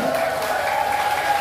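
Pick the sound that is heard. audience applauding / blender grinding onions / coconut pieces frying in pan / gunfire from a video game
audience applauding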